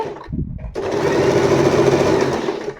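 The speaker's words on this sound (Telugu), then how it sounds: "ఇలా నీట్గా శారీని గైడ్ చేసుకుంటూ మనం చక్కగా ఈజీగా ఇందులో శారీ ఫాల్ అయితే స్టిచ్ చేసుకోవచ్చు" An Usha electric sewing machine stitches a fall onto a saree, starting after a brief pause and then running as a steady, close, continuous mechanical whir.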